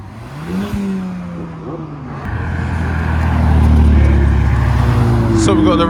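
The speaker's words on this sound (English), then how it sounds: "Got Turbo MX-5 coming past." A turbocharged Mazda MX-5 passes at a Japanese car meet in Reading, its engine note rising steadily into a loud, close rumbling drone amid other engine noise, while people talk throughout.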